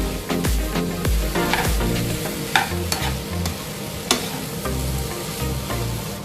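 Steamed vegetables for a vegetable biryani stirred together in a hot pan: continuous sizzling with rhythmic scraping and clanking strokes of a spatula, close and steady, no voices.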